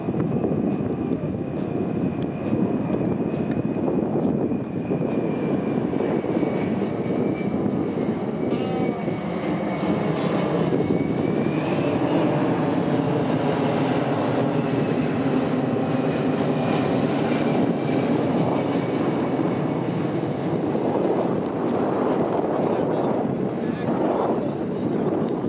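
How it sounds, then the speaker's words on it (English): Boeing C-17 Globemaster III making a slow-speed pass at an airshow: a loud, continuous jet engine roar and rumble that swells and holds throughout, with faint crowd noise beneath. "Here it is, folks, the slow-speed pass by your C-17 Globemaster"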